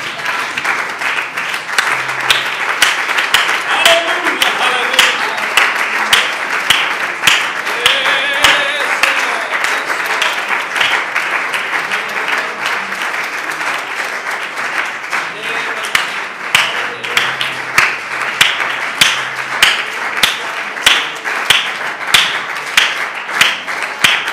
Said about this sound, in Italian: Facciamo ancora un applauso di lode e ringraziamento al nostro Signore.